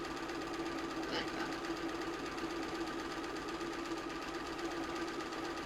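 A sewing machine stitches down a quilted stars-and-stripes placemat, running in a steady, continuous whir close by throughout, with a brief word spoken over it.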